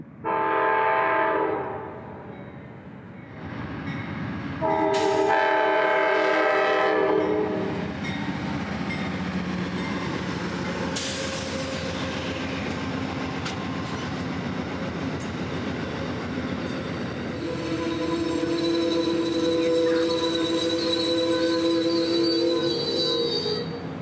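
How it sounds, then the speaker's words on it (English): Amtrak Silver Service passenger train arriving at an old 1903 ACL depot, with loud blasts of the horn, long high-pitched wheel squeal and steady rumbling cars rolling past, close and sustained. "Amtrak Silver Service like this PO98 arriving at the old 1903 ACL depot"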